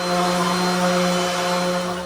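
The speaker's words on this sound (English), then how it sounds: "I'm using the Craftsman corded random orbital sander with the 80 grit sandpaper" A Craftsman corded random orbital sander with 80-grit sandpaper sands wood with a steady, even whine and buzzing hum, loud and close, without pause.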